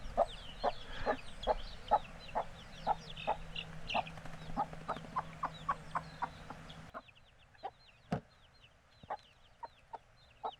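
Chickens just let out of their coop on a self-sufficient homestead cluck in a steady, busy patter close by, many short calls overlapping, then thinning to a few sparse clucks.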